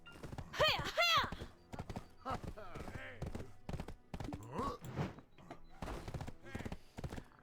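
Horse hooves clip-clopping in the online game Black Desert Online, light rhythmic steps with a neigh early on, mixed with other game sounds and short bursts of clatter.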